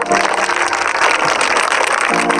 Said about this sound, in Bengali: ঠিক আছে, সবাই মিলে হাততালি দাও।